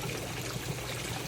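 Water flows steadily from a deep well, a continuous trickling stream with no break, heard faintly at close range.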